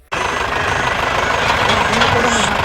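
A tractor hauling sand at a riverbed in Manvi taluk, its loud diesel engine chugging and knocking close by in a steady, continuous drone that starts abruptly after a moment of quiet.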